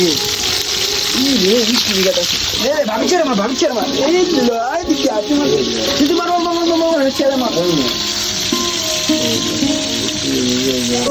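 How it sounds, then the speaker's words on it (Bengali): Marinated crabs frying in a pan give a continuous sizzle and spatter, with a voice talking over it for most of the stretch. "তারপরে গিয়ে হচ্ছে গিয়া ভাজানোর পালা"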